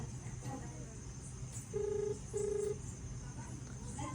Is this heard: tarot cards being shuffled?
no